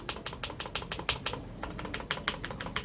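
Rapid clacky presses on the shift key of a MOFii Geezer G9 retro keyboard in quick bursts, close and crisp, with a brief pause before the typing resumes.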